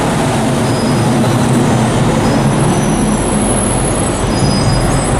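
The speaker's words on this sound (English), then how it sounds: "We got 3 big buses driving by at this exact moment." Three big buses drive past on a street, a loud continuous roar of engines and rumbling tyres filling the whole stretch with a faint high brake hiss, close by and alone without speech.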